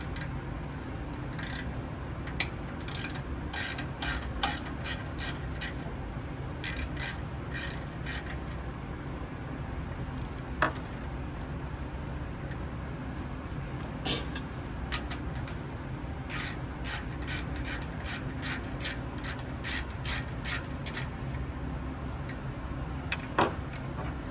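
A hand ratchet clicks in quick bursts while an 8mm bolt is backed out of a generator's AVR, the rapid ticking runs coming and going over a steady background hum.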